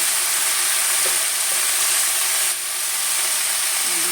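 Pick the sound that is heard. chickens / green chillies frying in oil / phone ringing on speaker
green chillies frying in oil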